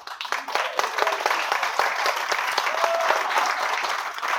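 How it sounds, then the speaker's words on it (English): Wedding guests applaud during the speeches, a close, lively burst of clapping that rises quickly and stays full and even throughout. "a round of applause again if you will"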